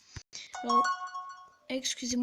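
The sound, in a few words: mobile phone ringing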